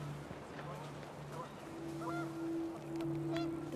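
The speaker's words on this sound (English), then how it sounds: "The wind picked up and panicked geese appeared and quickly went." Panicked geese honk amid picked-up wind in the video game What Remains of Edith Finch, a few faint, nasal calls repeating over a soft, windy background.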